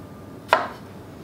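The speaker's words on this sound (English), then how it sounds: "I'm just gonna kind of cut them in nice big chunks" A single knife chop through strawberries cut into big chunks for a strawberry rhubarb crumble, one short crisp thud against a cutting board, close and clear in an otherwise quiet room.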